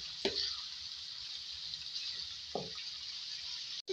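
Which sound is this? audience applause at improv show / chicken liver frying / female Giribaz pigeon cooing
chicken liver frying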